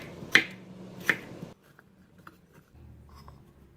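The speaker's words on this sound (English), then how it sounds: "Cut carrots in julienne strips. Slice a radish and cut into julienne strips also." A knife cuts carrots and radish into julienne strips, giving two sharp, close chopping knocks against a board, followed by faint scattered taps and light rustling.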